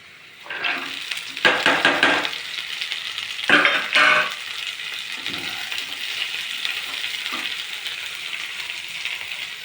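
Onion, mixed vegetables and cashews fry together in a pan for masale bhat, starting with a burst of clattering stirs and scrapes that settles into a steady, moderate sizzle with occasional utensil knocks.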